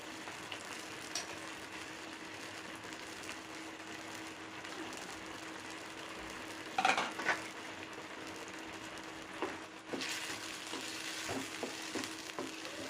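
Mushroom pepper masala frying in a pan gives a soft, even sizzle, broken by a few sharp scraping clatters as it is stirred and turned.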